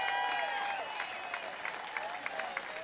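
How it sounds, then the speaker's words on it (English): A winery crowd applauds for a guest's birthday, with steady mid-distance clapping that holds for a few seconds behind a faint sustained musical tone. "Let's have a big round of applause."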